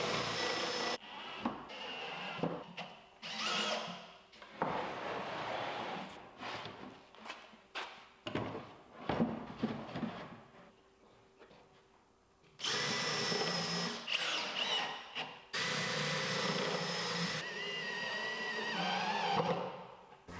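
A power drill whirs in repeated bursts, stopping and starting, then runs in longer, louder stretches as screws are driven into wood close by.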